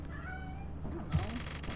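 Short in-game cat meow from the video game Lethal Company, rising over steady background game noise and faint voices, with a brief louder cry near the end.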